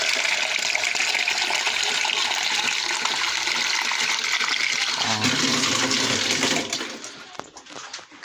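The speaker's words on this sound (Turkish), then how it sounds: "Burayı suluyorum. Suluyorum işte." Water pours steadily onto plants and a tree's roots in a garden, a strong continuous gushing splash close by that tapers off near the end.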